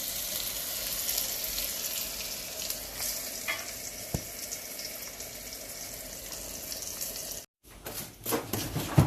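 Hot oil sizzles and crackles steadily up close as a tempering of coarsely crushed garlic fries for a colocasia-leaf curry, with a brief break before the frying resumes.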